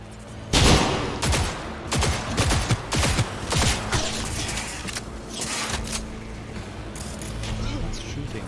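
Rapid bursts of gunfire from the video game Cyberpunk crack out in uneven volleys, loud and close, with a single shot and scattered firing trailing off, while a voice talks over parts of it.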